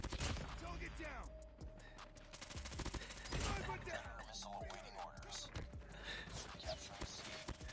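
AS Val rifle in Call of Duty Mobile, firing rapid automatic bursts with sharp repeated cracks over several seconds, mixed with other in-game gunfire and a player talking over the action.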